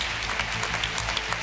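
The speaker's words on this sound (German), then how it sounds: "Aber das, euer Applaus." Studio audience applause at a German TV invention-contest show, a steady dense clapping that fills the whole moment without voices.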